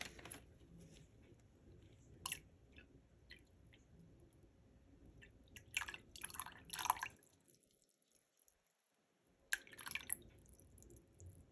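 Coconut water is poured into a shower gel mixture, giving faint intermittent drips and small splashy pours separated by quiet pauses, close by, with no talk.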